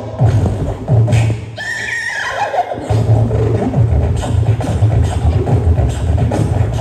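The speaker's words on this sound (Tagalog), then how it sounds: "Ito ang tunog ng kabayo." A horse neigh rises loudly over a busy background with a steady low hum, standing out for a second or two near the middle before the hum continues.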